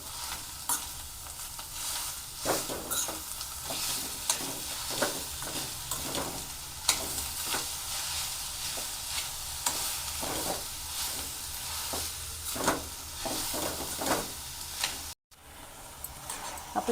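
A spoon stirs a jaggery filling for Maharashtrian ukadichya shenga in a pan, producing repeated scraping and clacking strokes over a soft sizzle, close and fairly even, with a brief dropout near the end.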